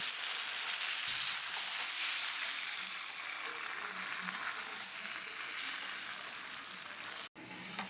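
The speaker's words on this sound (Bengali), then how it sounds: "সসটা দিয়ে চিকেনটাকে ভালো করে হচ্ছে নেড়ে নিচ্ছি" Chilli chicken frying with sauce in a pan and being stirred, a soft steady sizzle like light rain, fairly faint, with occasional stirring scrapes and a short break near the end.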